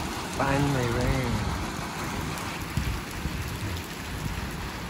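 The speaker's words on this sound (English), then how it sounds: "Finally rain." Steady rain falls over a fruit orchard in a broad, even hiss that lasts throughout, with a voice speaking briefly near the start.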